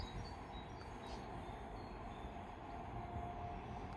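A Class 387 electric train departs Pangbourne station on the Great Western Main Line, a steady, moderately distant rolling rumble of wheels on rails with a faint high whine holding level throughout.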